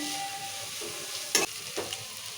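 Thinly sliced onions frying in oil, a soft steady sizzle with two spatula scrapes as they are stirred, close but fairly quiet, no voices.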